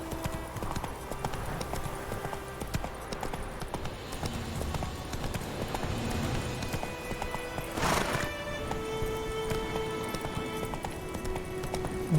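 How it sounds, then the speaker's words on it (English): Clip-clop of a horse's hooves in the Witcher 3 video game as Geralt's horse Roach runs, a steady close hoofbeat rhythm with whinnies and neighs, plus a brief brighter burst midway. "Whoa there, Roach"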